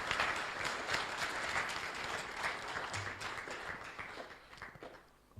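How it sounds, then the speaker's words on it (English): Audience applause welcoming Ghana's President-elect John Mahama to the podium during a transition ceremony, a dense, sustained clapping that swells loudly and then thins toward the end, heard alone without talk. "Please, a louder round of applause."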